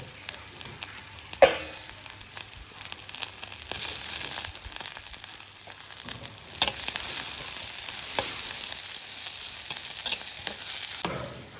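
Garlic, onion and chilli sauté in a pan with a little water, making a close, continuous sizzle broken by several short scraping stirs and one sharp knock early on.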